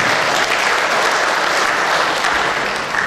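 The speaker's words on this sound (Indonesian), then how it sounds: "Kita kasih tepuk tangan kepada saudara Andri Mahendra" Seminar audience at a national microwave antenna and propagation conference applauding a presenter, a loud, continuous burst of many hands clapping together, steady from start to finish with no talk over it.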